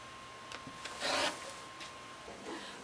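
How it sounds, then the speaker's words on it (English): Scissors trimming excess quilt batting and backing along the quilt edge, soft rasping snips and rubbing with one louder cut in the middle, close and quiet. "Now to trim this away, I just trim, leaving a few inches extra batting and backing."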